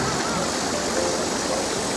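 Mountain valley stream rushing and gurgling close by, a dense continuous wash of flowing water with no voices.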